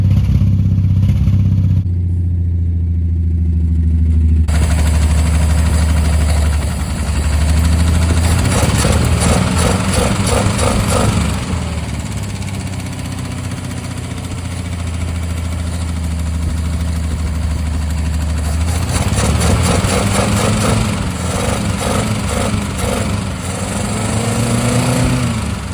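A 1964 Plymouth Valiant engine runs rough and uneven, a steady loud idle with lumpy, stumbling pulses and a dip and rise in revs, heard up close with no talking.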